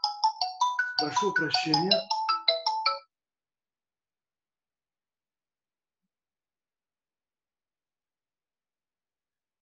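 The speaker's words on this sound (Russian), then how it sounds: "Хороший человек, конечно, звонил. Но я не успел телефон отключить." Mobile phone ringtone during a call, a loud bright melodic jingle of repeated ringing notes for about three seconds before cutting off into silence, with a man's brief spoken apology at the start.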